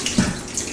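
Liquid poured off venison meat in a brief, steady splashing gush, close and fairly loud.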